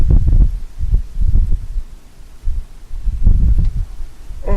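Gusty outdoor wind buffets a microphone in loud, low rumbling bursts that rise and fall over several seconds, with no clear speech.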